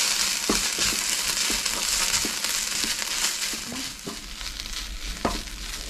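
Chicken filling for chilli bajji is mixed in a hot pan over a dense, steady sizzle. Spoon scrapes and crunchy pushes through the filling come about every half second, close and fairly loud, with no voices.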